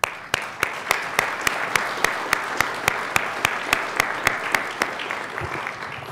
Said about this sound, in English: if we could join in a round of applause for them.